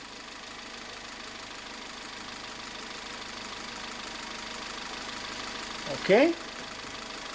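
A car engine idles steadily at a low hum, the checked battery and alternator system running, with a brief louder burst near the end as a voice speaks briefly.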